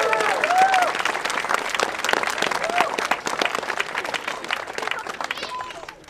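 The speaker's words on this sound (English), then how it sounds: "Can we get a round of applause for the sailors?" An outdoor crowd at the Newport 300 reenactment applauds the costumed sailors, with brisk, dense clapping mixed with cheers and scattered voices that gradually fade toward the end.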